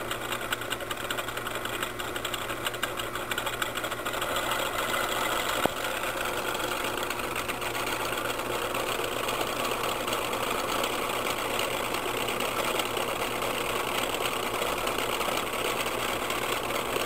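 A small DC electric motor runs on an adjustable bench power supply, giving a steady close whirring hum with a faint rattling vibration that holds constant throughout.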